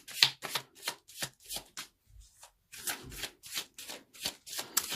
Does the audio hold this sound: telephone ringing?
no